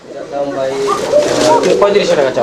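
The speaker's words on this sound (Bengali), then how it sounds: "নটটা ডাকতেছে" A male Jacobin pigeon coos close by in a loud, low, throaty rolling burst mixed with other birds in what sounds like a pigeon market, while a person talks over it.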